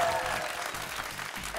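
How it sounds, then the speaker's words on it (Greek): A studio audience on a Greek Wheel of Fortune game show applauds steadily in a dense, continuous burst of clapping, with a voice speaking over it. "Παιδιά, όταν παίρνω φιλί, χειροκροτάμε."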